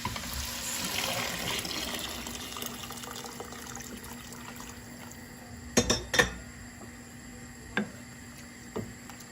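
Boiling water poured into a pot of green lentil soup with noodles, a steady liquid pour strongest in the first couple of seconds, fading to a faint trickle with a few sharp clinks later on.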